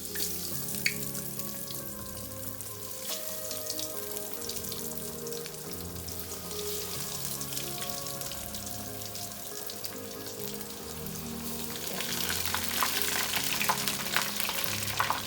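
Soya cutlet patties frying in hot oil give a steady, dense sizzle that holds throughout and swells louder toward the end, with no talking.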